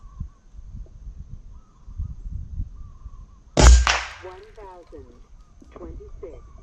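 An air rifle slug strikes a metal target with one sharp, loud pop that rises suddenly out of low background noise, followed by people talking.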